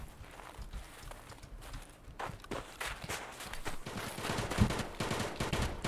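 Gunfire in the shooter game Escape From Tarkov comes as scattered sharp shots and short bursts mixed with footsteps, growing busier and louder toward the end.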